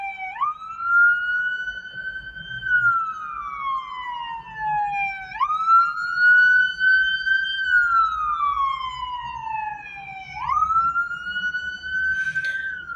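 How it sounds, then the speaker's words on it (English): Ambulance siren pulling away from the scene of a pedestrian struck by a car, a loud wailing sweep rising and falling three times in slow cycles over faint traffic rumble. "That's the ambulance right now taking off from the scene."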